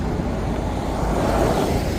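Busy road traffic with many vehicles passing on the way to a college, a steady broad rumble and engine drone, moderately loud with no distinct single pass-by and no speech.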